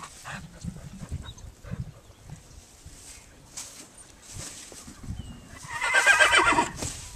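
A horse whinnies loudly near the end after several seconds of snorting, shuffling and faint movement close by.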